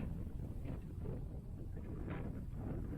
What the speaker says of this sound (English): The wind picked up